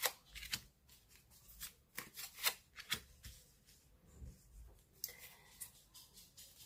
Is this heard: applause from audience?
no